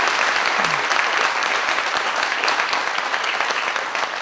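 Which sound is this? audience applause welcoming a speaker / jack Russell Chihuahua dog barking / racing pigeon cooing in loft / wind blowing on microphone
audience applause welcoming a speaker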